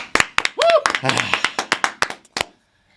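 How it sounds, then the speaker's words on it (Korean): A small group claps by hand in a podcast studio, a burst of irregular sharp claps spread across a few seconds, mixed with talking voices and laughter, then silence. "자 박수 한번."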